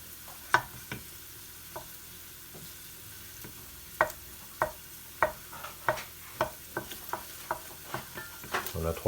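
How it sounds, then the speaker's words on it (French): A wooden spoon stirs food in a pan while cooking mussels in cream and curry, giving a soft, continuous sizzle broken by regular scraping strokes that quicken toward the end. "Toujours la cuillère en bois pour mélanger, plus pratique,"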